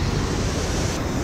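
Steady, loud rush of waterfall water inside Robber's Cave in Dehradun, a continuous broadband roar close to the microphone with no voices.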